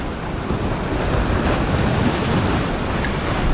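Sea waves break and foam on the shore where sea bass are being fished, a steady, loud, broadband wash with some wind noise on the microphone, no voices.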